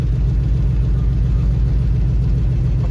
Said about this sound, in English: it's even idling with no choke